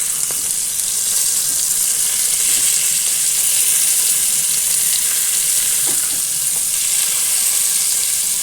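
Fish sizzles and spits steadily in hot oil in a pan, a continuous close frying hiss with a few soft clicks as the pieces are turned over, no voices.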